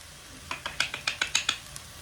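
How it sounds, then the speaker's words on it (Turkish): Vegetables being sautéed in a pan, with a quick run of about eight light scraping, clinking stir strokes over a faint background, close and fairly quiet. "bunları şimdi güzelce kavuruyorum"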